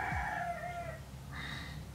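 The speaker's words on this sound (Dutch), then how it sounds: "Onze haan heet Piet, vandaar." A rooster crows nearby, one loud call with strong harmonic bands that fades and then rises again briefly, over steady low background hum.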